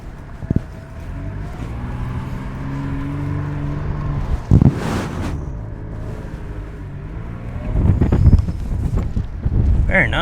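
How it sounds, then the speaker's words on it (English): Off-road vehicle on Goodyear Wrangler DuraTrac RT tires driving through deep sand, a steady low rumble of engine and tires with wind buffeting the microphone and a few louder bumps. "these tires are doing good. They're just floating right along in this stuff. This is some pretty deep sand, too."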